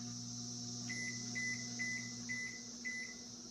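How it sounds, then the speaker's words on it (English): A microwave oven runs while steeping lavender, giving a steady low electrical hum with a row of short, faint, evenly spaced tonal chirps on top. "Just going to steep this in the microwave"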